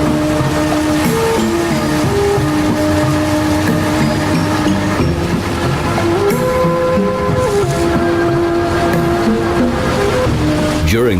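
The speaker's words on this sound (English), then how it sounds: "the boat slowly glides past the tropical scenery" A motor boat glides slowly through narrow Mekong Delta canals among tropical scenery, its engine droning steadily and loud throughout with water wash beneath and a shifting tonal hum.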